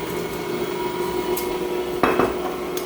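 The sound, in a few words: spatula scraping down a mixing bowl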